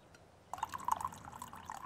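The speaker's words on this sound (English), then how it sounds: "I'm gonna pour it in now" Egg coffee is poured into a cup, beginning with a sudden soft trickle and continuing as a thin, steady liquid stream with gurgling filling tones, quiet and close, with no one speaking.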